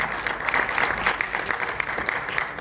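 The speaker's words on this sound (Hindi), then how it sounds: "इनके लिए बहुत ही तालियां" An audience at a Pakistani movie launching ceremony claps steadily, a dense close round of applause that stays even throughout, with faint crowd murmur beneath.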